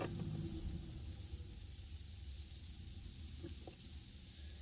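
A chocolate chip pancake cooks in a pan, giving off a steady, quiet sizzle that stays even throughout, with no talking.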